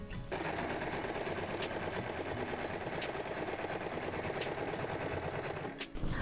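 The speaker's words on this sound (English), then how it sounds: "I can start sewing all around the cushion" A sewing machine stitching the seams of a garden cushion, running in a fast continuous mechanical whir for several seconds before stopping briefly at the end.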